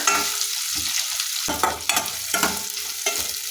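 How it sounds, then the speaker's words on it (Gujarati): Sliced onions sautéing in a pan with chana dal, garlic and curry leaves for a bitter gourd and capsicum dish, a steady loud sizzle broken by several scraping stirs of a spoon, with no talking. "હવે આ ડુંગળીને થોડી બ્રાઉન થાય ત્યાં સુધી સાંકળી લેવાની છે"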